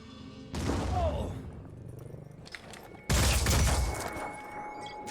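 A thrown grenade detonates in the tactical video game Phoenix Point, heard as two loud, dense bursts of blast and debris, the second sharper and heavier, each with a short rumbling tail.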